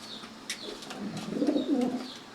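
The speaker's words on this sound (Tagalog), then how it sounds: "ito pa yung kalapati ko mga ka-guys" A pet pigeon coos softly, a couple of low, throaty rolling calls building in the second half, close by over faint ambient noise with a few light clicks.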